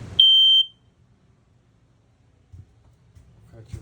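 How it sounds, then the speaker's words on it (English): A single short, piercing electronic beep from a 9-volt smoke alarm by a door, followed by near-silence and faint movement sounds. "Got a smoke detector when you come in the door."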